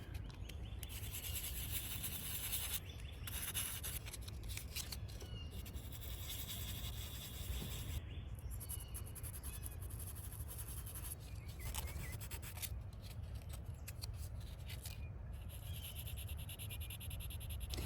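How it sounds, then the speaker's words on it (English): Steady rubbing of 1500 grit sandpaper over car touch-up paint, a continuous soft scratchy hiss with slight shifts in texture, close and faint, with no talking. "this is the 1500 grit, and that just helps to smooth out any additional lines that the 600 grit may have made."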